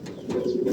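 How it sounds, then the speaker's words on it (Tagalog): A pigeon coos close by in a short, soft, throaty burst that rises and rolls, the low warbling call continuing alone without talk. "Kantang ibon ito."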